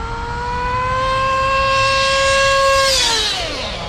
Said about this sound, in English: A little more sustained full throttle that time